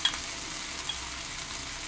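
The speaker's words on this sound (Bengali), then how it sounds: "এখন এখানে দিয়ে দিচ্ছি 2 টেবিল চামচ ঘি" Ghee added to a banana stem pulao in a pan gives a soft, steady sizzle, quiet and close, with a small tap at the start and no voices.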